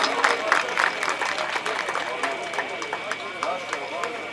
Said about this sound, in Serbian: Dupli aplauz.